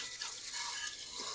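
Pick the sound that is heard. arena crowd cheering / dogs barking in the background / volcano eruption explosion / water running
water running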